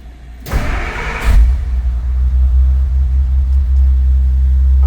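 A 1956 Willys Overland pickup engine cranks over and catches from a cold start, surging loudly for a moment before settling into a steady, close, rumbling idle.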